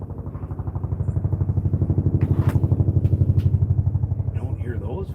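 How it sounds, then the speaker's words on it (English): A large helicopter with a big engine passes overhead, its rotor beating in a fast, steady, loud pulsing throb that swells and holds, with a voice faintly heard over it. "I'm just curious about the type of helicopter. That is a very big engine."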